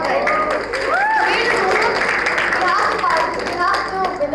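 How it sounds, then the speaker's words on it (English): An audience at a school event claps and cheers for the winners of a quiz competition. The lively clapping mixes with children's voices and crowd chatter throughout. "Can we have a huge cheer?"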